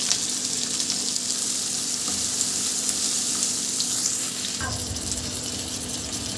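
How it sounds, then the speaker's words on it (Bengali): Onions frying in hot oil for a beef bhuna, a continuous loud sizzle with stirring scrapes and a brief rattle near the end. "পেঁয়াজ দিয়ে দিলাম তেলে"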